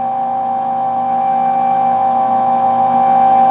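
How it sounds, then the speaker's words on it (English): The incline motor of a NordicTrack Commercial 2950 treadmill hums steadily as it raises the deck, a loud, even mechanical whine that swells slightly over a few seconds with no talking. "You can hear how loud the motor is. Or not the motor, but the incline motor."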